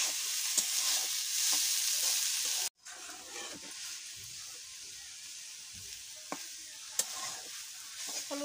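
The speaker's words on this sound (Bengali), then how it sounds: "লাড়া দেবো।" A spoon stirs a vegetarian banana curry in a pan with a steady sizzle and scraping strokes. Frying hiss sits close and continuous, and a brief sharp break interrupts it partway through.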